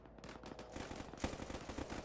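In the Arma 3 video game, gunners fire desperately at an aircraft over a burning town, a rapid, continuous stream of automatic gunfire heard at a distance, fairly faint and rumbling throughout.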